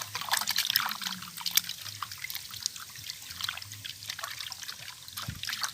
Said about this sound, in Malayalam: 3-4 വെള്ളത്തിൽ കഴുകേണ്ടതായിട്ട് വരും ഇത്